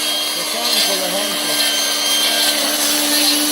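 An AL-KO BC 1200 E electric string trimmer runs with a steady, even whine that holds constant throughout, fairly loud and close, with no talking.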